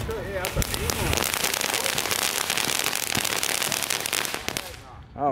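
Fireworks set off in a neighborhood crackle and pop in a dense, rapid barrage of sharp bursts, close and loud, with voices reacting over the noise before it cuts off.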